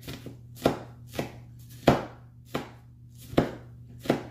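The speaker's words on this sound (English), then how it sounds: "And then dice it some more" A knife dices green onions on a cutting board into small pieces, giving a steady run of sharp, close chops spaced about half a second apart, with no talking.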